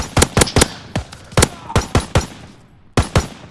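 Burst-fire gun in Call of Duty: WWII rattling off several loud, close three-round bursts with short gaps between them, a brief pause, then one final burst.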